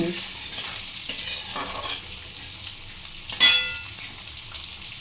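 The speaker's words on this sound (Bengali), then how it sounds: "এটা কিন্তু ফ্রাই হবে একটু হালকা হালকা ফ্রাই হবে" Chicken for chilli chicken frying gently in a pan, a soft continuous sizzle with a few stirring scrapes and one brief louder burst near the end.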